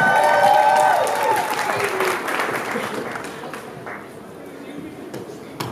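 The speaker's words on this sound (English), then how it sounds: "Give it up for Kairoo!" Dance competition crowd applauds loudly for a dancer at a furry convention, dense clapping and cheers strongest at first and slowly fading, with a host's voice heard over it.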